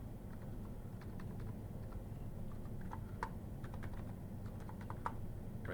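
Rapid keystrokes on a computer keyboard while entering Excel formatting shortcuts, a steady run of light clicks and taps over a low room hum, no voices.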